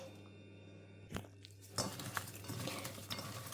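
Close, soft squelching and rustling of hands kneading sliced cucumber with salt in a bowl for kimchi, with a light clink of a dish near the start.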